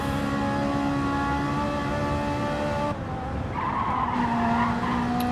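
Ferrari race cars in a racing video game, engines droning steadily with a sustained tire squeal as the cars skid through a corner, a continuous loud mix with no pauses.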